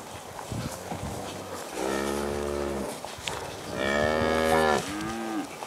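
Cattle moo loudly in a few long, drawn-out calls, one after another, close by on a summer farm, with quieter grunting and outdoor noise between them.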